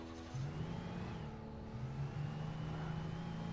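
Car engine in the video game Alan Wake, a steady low drone with a rising hum as it accelerates, driving continuously with a faint whine above it and no talking.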